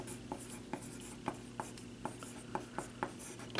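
A pen writes out a math expression in a steady series of faint scratches and taps, each stroke distinct, over a low room hum with no talking.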